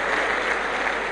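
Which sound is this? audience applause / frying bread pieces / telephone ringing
audience applause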